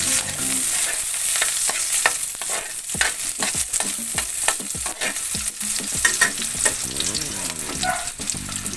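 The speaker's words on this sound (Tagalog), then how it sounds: "Mag-gisa na tayo ng sibuyas, guys." Onions sautéing in a pan, a loud, close, continuous sizzle with a dense run of spatula scrapes and clicks on the metal; no voices.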